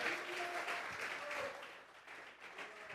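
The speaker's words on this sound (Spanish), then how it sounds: "Vamos a regalarle ofrenda de palmas al Dios de la gloria." A church congregation applauding during a Sunday service, a continuous wash of clapping hands that holds steady before easing slightly, heard at moderate distance with no speech.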